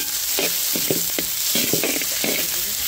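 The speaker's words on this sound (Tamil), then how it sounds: "அது நல்லா வதங்கினதுக்கு அப்புறம் வெங்காயத்தை சேர்த்துக்குவோம்." Onions, green chillies and curry leaves fry in hot oil in a pan for white kuruma, a steady close sizzle broken by bursts of stirring and scraping, with no voices.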